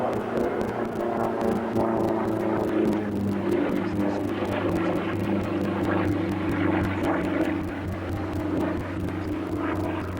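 A propeller aerobatic aircraft with a roughly 420-horsepower engine and a 2.7-metre propeller drones steadily at the Farnborough International airshow, a continuous loud engine hum with a faint pulsing buzz.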